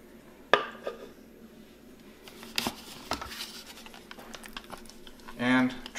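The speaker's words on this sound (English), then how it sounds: "Scrape off everything from the blades." Pesto being scraped off food processor blades, with several clinking metal taps, scrapes and a short rattle near the end.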